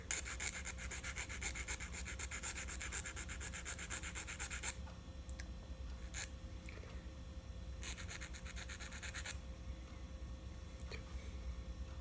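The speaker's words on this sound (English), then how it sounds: "Now I like to clean this up a little bit with a file because it's not quite perfect when you use the nipper." A hand file rubs and scrapes back and forth over the freshly nipped fret ends on a Vega Tubaphone tenor banjo, with a rhythmic rasping run, a pause, then another short stretch of filing, close and quiet.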